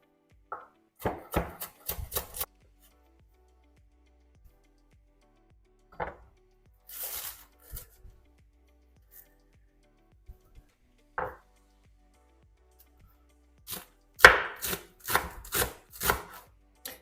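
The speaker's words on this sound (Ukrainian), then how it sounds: "Тепер наріжу зелень, петрушку кріп і зелену цибулю." Parsley, dill and green onion chopped with a knife on a board, quick bursts of close, sharp chops separated by pauses.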